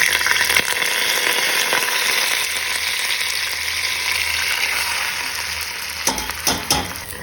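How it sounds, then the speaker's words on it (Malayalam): Washed rice fries in oil in a pot for Thalassery dum biryani, a constant close sizzle with scraping stirs, followed near the end by a few sharp clinks of the utensil against the pot. "ഞാൻ ഈ അരി എണ്ണയിൽ ഒരു 3 മിനിറ്റ് വറുത്തെടുത്തിട്ടുണ്ട് കേട്ടോ"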